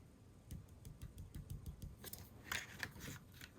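Scissors snipping paper for a springtime tunnel box card, a quick regular series of small close cuts, followed by a few louder, brighter snips.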